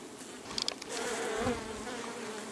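A dense swarm of honeybees hangs on a hive frame, humming steadily up close while building fresh comb, with a few brief clicks early on.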